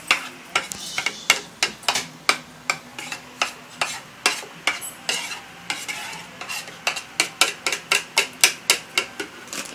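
A utensil clinks rhythmically against a bowl while mango graham cake ingredients are mixed, giving a steady series of sharp taps, close and clear, with no talk.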